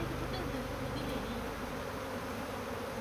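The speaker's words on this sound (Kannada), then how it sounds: "ಎಷ್ಟು ಜೇನು ಕುಟುಂಬ ಎಷ್ಟು ದೊಡ್ಡ ಕುಟುಂಬ ಇದು ಹಾರಾಡ್ತಾ ಇದೆ" A big new swarm of honey bees flies into a hive box outdoors, a dense, continuous close buzzing drone that fills the whole stretch.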